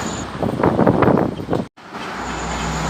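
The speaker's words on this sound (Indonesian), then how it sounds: "yang bus pertama terpantau ini bus merah teman-teman" A red long-distance bus on the road to Dumai, near Pekanbaru, rumbles past close by, its broadband engine and road roar swelling for about a second and a half, then dropping away into quieter traffic noise.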